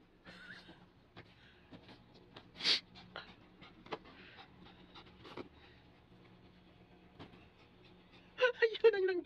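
A restless dog pants steadily and close by, with quick breathy rasps running through the clip, one sharper snort near the middle and a louder scuffling burst at the end, while a person talks over it.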